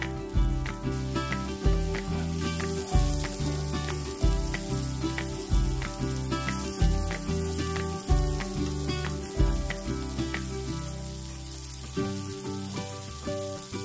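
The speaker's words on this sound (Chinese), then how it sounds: "加入熟的鹰嘴豆一起炒" Chicken and cooked chickpeas stir-fry in a hot pan, a constant sizzle broken by regular scraping and clanking of a spatula against the pan roughly every second.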